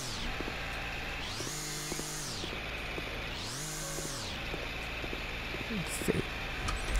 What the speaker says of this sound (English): This isn't mowing, actually. This is weed eating.